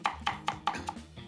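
A cleaver chops lotus root on a board for Taishan-style lotus root meatballs: five quick, close, evenly spaced thuds, then a brief pause.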